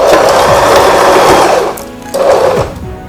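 A Singer Start 1306 sewing machine stitches fabric in a steady, close mechanical whir with a rapid rhythmic needle patter, pausing briefly near the end before running again.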